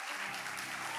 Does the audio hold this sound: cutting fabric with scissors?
no